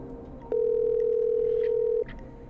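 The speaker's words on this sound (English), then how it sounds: "Oh, it's ringing." A single long, steady electronic telephone ringing tone in a video game sounds for about a second and a half over faint background hiss, with no voices.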